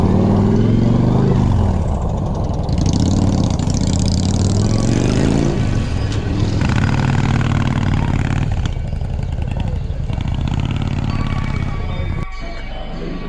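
A loud motorcycle engine runs and revs continuously, rising and falling in pitch, close by, with crowd noise mixed underneath at a protest at the Robert E. Lee Memorial in Richmond, Virginia.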